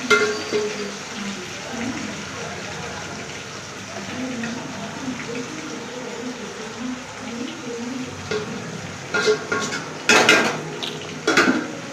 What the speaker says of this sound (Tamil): நல்லா கிளறி கொடுத்துக்கலாம்